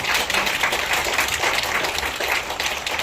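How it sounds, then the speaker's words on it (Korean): Applause from an audience at a nurse-aide continuing-education session, a dense steady wash of many hands clapping, fairly loud and sustained throughout with no talking over it. "여러분 제가 여러분을 위해서 뜨겁게 박수 한번 보내겠습니다."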